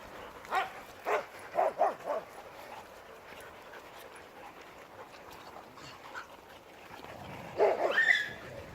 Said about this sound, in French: on va descendre tranquillement pour voir les chiens qui sont restés devant la maison